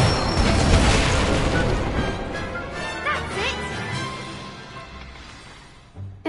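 A burst of magical flame from the Incendio fire spell in the video game Hogwarts Legacy, opening with a loud whooshing blast that fades over several seconds, followed by a sharp pop near the end.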